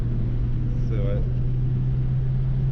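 A Renault Super 5 with a 1.4 litre engine runs at full throttle, giving a steady, humming engine drone heard from inside the car. A short voice sound rises briefly over it partway through.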